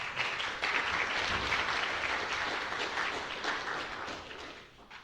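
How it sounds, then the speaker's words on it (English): An audience applauds the first speaker at an academic talk, a dense, steady wash of many hands clapping that carries on for several seconds and tapers slightly at the end. "I'd like you to give a round of applause for our first speaker."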